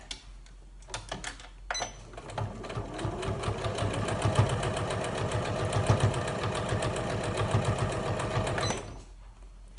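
A sewing machine stitches a padded fabric notebook cover, with a few short starts followed by a long rapid run of close, rhythmic needle clatter that stops abruptly.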